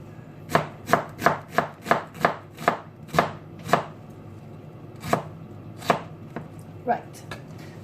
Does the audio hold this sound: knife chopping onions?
yes